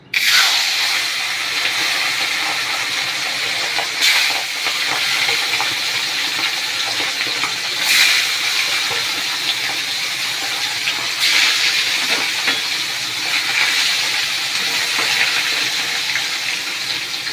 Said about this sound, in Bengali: চলো মাছগুলো দেওয়া যাক। তেল গরম হয়ে গেছে।